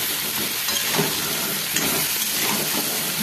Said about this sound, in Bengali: ভালোভাবে এটা মশলাটা কষিয়ে নেব।